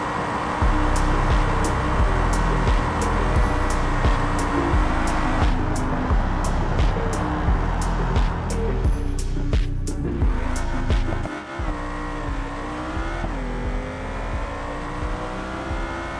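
A car engine drones continuously, rising and falling in pitch as it revs and shifts, with no voices.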